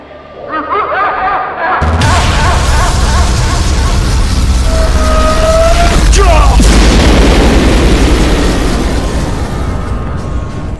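A loud explosion effect for a Cyber Jar card self-destructing in a live-action Yu-Gi-Oh! duel, a sudden deep boom that swells into a long rumbling roar with dog-like yelps and crackle mixed in, dying away slowly.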